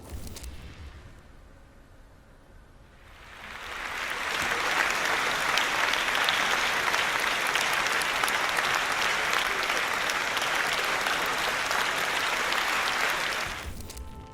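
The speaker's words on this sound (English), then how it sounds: "The Slovenians' performance was greeted with polite but thunderous applause." After a quiet few seconds, a large audience breaks into thunderous, sustained applause for a Slovenian band's concert in North Korea, dense clapping holding loud and steady before cutting off abruptly.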